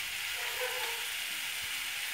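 Steady, close sizzle of a pan sauce with butter (margarine) stirred in while cooking chicken for a home lunch, a continuous hissing fry throughout with no talking.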